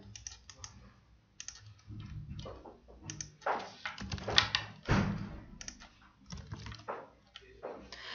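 Quiet, close clicking of keys on a computer keyboard as a link is typed in irregular short runs, with a few louder taps and pauses between.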